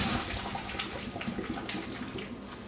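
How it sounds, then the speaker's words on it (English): Cold water runs steadily from a kitchen sink tap over drained asparagus in a colander, a continuous close splashing rush with no talking. "And then I start hitting them with cold water. As cold as I can get it in my sink."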